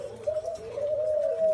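A spotted dove coos with a soft, sustained, hollow call that wavers slightly in pitch, heard alone at close range with a faint rustle beneath it.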